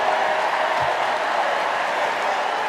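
A large convention crowd at Sarah Silverman's speech in Philadelphia, a steady wash of cheering and applause holding at an even level throughout, with faint voices mixed into the roar.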